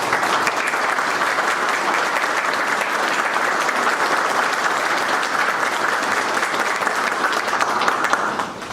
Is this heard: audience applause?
yes